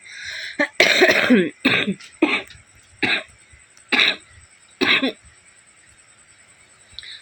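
A person coughs repeatedly in harsh bursts, about seven of them spaced a second or so apart, with brief throat clearing and quiet pauses between.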